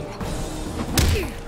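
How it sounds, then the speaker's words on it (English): A choke slam lands in Mortal Kombat X as a short, heavy thud about a second in, over faint background game noise. "A choke slam. Boom."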